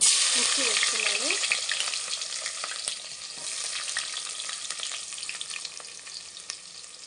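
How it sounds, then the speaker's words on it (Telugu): Chopped onion and green chilies tossed into hot oil for bagara rice, setting off a loud, steady sizzle and crackle that slowly eases, with occasional stirring clinks and no voices. "ఇప్పుడు ఇందులోకి ఆనియన్ మిర్చి వేస్తున్నాను"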